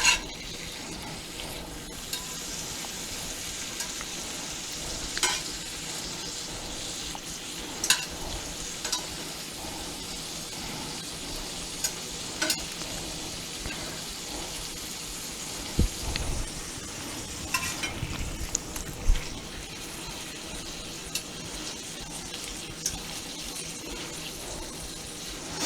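Food sizzles in a pan while it is stirred and flipped for apple cheddar squash soup, a steady crackling hiss broken by occasional scrapes and clacks from a utensil, with no talking.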